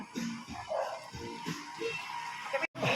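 A very thin stray dog that climbed onto a wall barks and yips in short bursts, fairly close, with whimpering sounds in between and no talking.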